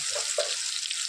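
Peanuts, green chilies and spices fry in a pan with a bright, steady close sizzle, broken by a couple of soft bubbling pops.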